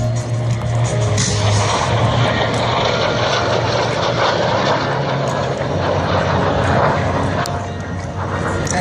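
An aircraft roars loudly and continuously overhead while preparing to land at the 2014 California Capital Air Show, a broad engine drone with a low throb that swells slightly and holds steady.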